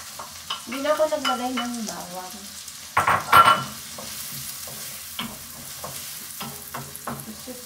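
Onion sautéing in a pan for a creamy mushroom pasta, with short stirring and sizzling bursts between stretches of talk in Filipino.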